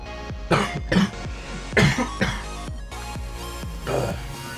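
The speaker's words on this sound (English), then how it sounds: "it's probably because I'm in the background coughing." Several harsh coughs and throat clearing in bursts from a person nearby, fairly loud, with gaps between fits and no speech.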